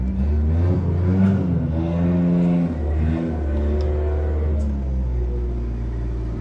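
A Saab 900 with K-jet injection and a malfunctioning cold start valve idles and revs nearby, a steady low rumbling engine note with a few moderate rises and falls in pitch.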